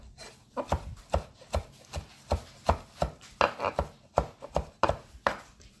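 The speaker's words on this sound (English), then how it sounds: "we're just going to chop those super fine" A knife chops a good handful of parsley super fine on a board, a fast run of crisp, evenly spaced thunks close up, with no talking.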